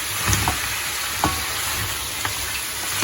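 Goat adobo in dark sauce is stirred steadily in a hot pan, with a constant sizzle and occasional soft scrapes and clinks of the spoon, no voices.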